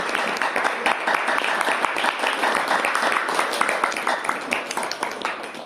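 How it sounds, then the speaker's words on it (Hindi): Applause from a gathered group at a Rathasaptami sun-worship event, quick irregular claps at a fairly close, steady level over several seconds. "एक बार तालियां बजाइए"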